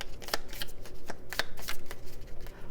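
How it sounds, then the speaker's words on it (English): Oracle cards being shuffled by hand in a quiet room, a run of crisp riffling bursts and soft slaps close to the listener, with no voices over them. "now we can shuffle up."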